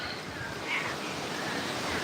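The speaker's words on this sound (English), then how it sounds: "get some of this extraordinary wind gusts that we have going on right here" Strong wind gusts outdoors ahead of Hurricane Milton on the East Coast, a continuous roaring rush buffeting the microphone with a slight swell midway.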